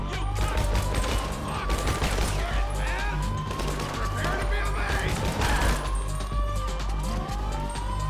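Rapid gunfire in the video game GTA Online, continuous loud bursts mixed with wailing police sirens and street chaos, with voices talking underneath.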